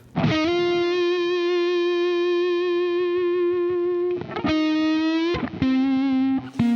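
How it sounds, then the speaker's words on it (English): A Les Paul electric guitar on its neck pickup gives out a thick, dark, heavily distorted tone, holding one long sustained note for about four seconds before sliding into two more shorter held notes. "I can have that neck pickup ready to go with a really thick, dark sound like that just by setting the tone knob around 5"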